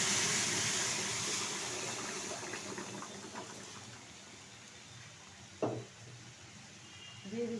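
Boiled papaya dal with tomato and turmeric poured out of a pressure cooker after one whistle, a soft steady liquid pour under low kitchen hiss, with a brief splashy gush near the end.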